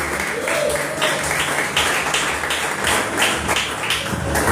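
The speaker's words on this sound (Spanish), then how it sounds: "Denle un aplauso al Espíritu Santo" A church congregation applauding together, a dense steady wash of clapping that stays loud and even throughout, with no voices standing out.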